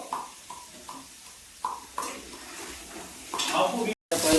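Onions fry in a pan with a soft sizzle under intermittent stirring and utensil clatter, growing louder toward the end after a brief cut.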